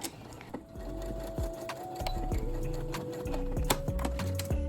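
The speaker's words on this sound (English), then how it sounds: "sew across both ends of the channel right through the elastic to hold it securely in place" Sewing machine stitching across the ends of an elastic channel on a babydoll summer blouse dress, running in several close bursts of rapid needle clatter with brief pauses and changes of speed between them.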